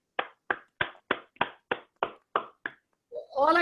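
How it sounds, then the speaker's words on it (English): Nine sharp, evenly spaced hand claps ring out in a steady rhythm, close and clear, for dancer Muni at a mix-and-mingle event, followed by a burst of voices. "Let's give a big applause to Muni."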